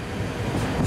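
A train runs on the Chihuahua al Pacifico railway through rugged Mexican terrain with bridges and tunnels, giving a brief, dense, steady rumble of rolling wheels and carriages.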